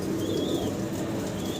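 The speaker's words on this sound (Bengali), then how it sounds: "চমৎকার এক জোড়া পাঙ্খি গ্রিবাস কবুতর" A pair of fancy Pankhi Gribaz pigeons cooing up close, steady throaty coos with some wing movement, no talking.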